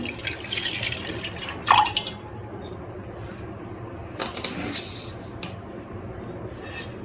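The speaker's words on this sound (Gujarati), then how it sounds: "પાણી એડ કરીશું" Water trickles and drips into a vessel while making cumin sherbet, with a few sharp splashy bursts standing out over a steady low background.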